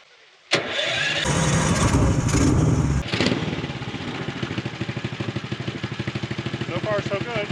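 Cheap homemade kid-safe snowmobile engine, carburetor running lean at high elevation, snaps to life with a loud burst, revs roughly, then settles into a close, steady, fast-pulsing putter.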